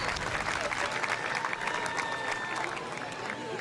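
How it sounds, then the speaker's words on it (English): A stadium crowd cheers and applauds for a player at the 2025 Little League World Series final between Venezuela and Hawaii. The sustained roar is moderately distant, with a voice talking over it. "She's getting a large cheer from her fan base."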